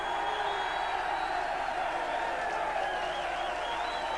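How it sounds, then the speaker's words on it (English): A packed darts crowd at the 1984 Embassy World Championship final applauds finalist David Whitcombe, a steady, even roar of clapping with some cheering that holds at the same level for several seconds. "your applause, please, for David Whitcombe"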